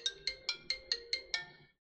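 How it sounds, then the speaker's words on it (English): A phone ringtone chimes seven times in an even, quick rhythm during a Dead by Daylight game stream, each bright electronic tone clear and close, then stops. "Of course I take a phone call now."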